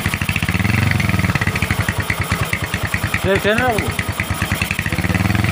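A motorcycle idles with a freshly welded exhaust, its steady close, rhythmic putter continuing throughout while someone speaks briefly over it.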